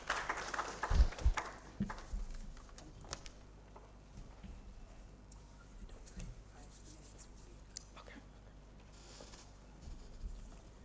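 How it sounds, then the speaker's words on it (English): A conference audience at a food security and nutrition meeting breaks into a short burst of applause, loud at first then thinning into scattered claps and room murmur. "A round of applause for Mr."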